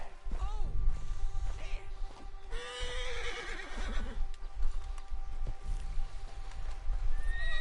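A horse in Red Dead Redemption 2 whinnies loudly near the start and again mid-way, with clip-clopping hooves and other game sounds continuing underneath.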